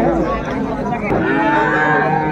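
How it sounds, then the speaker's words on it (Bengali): Young bull calves mooing at a cattle farm, a loud, close, drawn-out low moo that swells midway and carries on to the end, with faint farm background noise behind it. "বেশ সুন্দর গরুগুলো কালেকশন করছে মোহন ভাই।"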